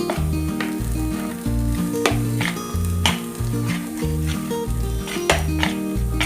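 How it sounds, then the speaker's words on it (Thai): Pork pieces crackle and sizzle steadily in hot oil, the close frying hiss running over steady background music with a strong rhythmic bass line. "เดี๋ยวเราก็เอาไปทอด"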